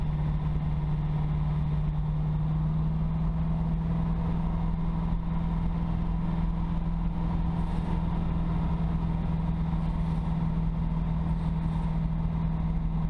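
A 1968 Camaro RS/SS with an L88 V8 and four-speed idles at around 750 to 800 rpm, a steady, close, deep rumble with a strong low hum, constant throughout with no talking.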